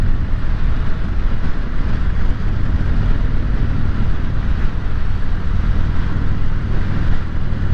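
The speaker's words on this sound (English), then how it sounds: "these bikes actually have a pretty cool sound to them right out of the box" A stock-exhaust 2018 Harley-Davidson Sport Glide motorcycle rumbles steadily while riding, its deep engine drone mixed with strong wind buffeting, loud and continuous with no talk.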